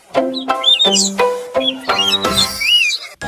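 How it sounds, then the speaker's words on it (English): Small birds chirp in a quick run of bright, high, repeated tweets and trills, close and loud, with no talk over them. "Little birds chirp, cheep cheep with me"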